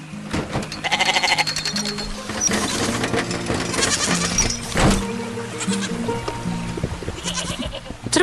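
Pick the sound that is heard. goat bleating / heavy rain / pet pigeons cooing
goat bleating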